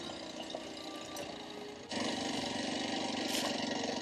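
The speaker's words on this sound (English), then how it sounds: "This 230 can sure chug at low RPM in second gear." A Kawasaki KLX230 dirt bike chugs along in second gear at low RPM on a forest road. The engine makes a low, rumbling thrum that swells louder partway through, with wind noise over it and no talking.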